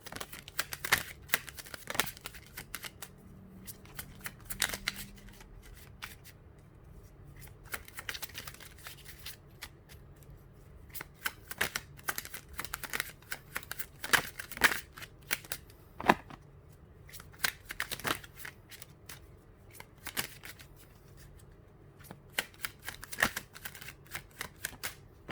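Tarot cards being shuffled by hand, a long run of close, crisp riffling and flicking bursts in irregular rhythm with short pauses between, fairly quiet, no talking.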